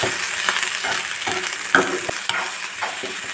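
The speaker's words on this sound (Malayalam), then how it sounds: "ഉപ്പ് ചേർത്തിട്ട് നന്നായിട്ടൊന്ന് ഇളക്കാം" Cluster bean thoran being stirred in a hot pan just after salt goes in: a soft, steady sizzle broken by scraping and light spoon knocks, close and clear with no talking.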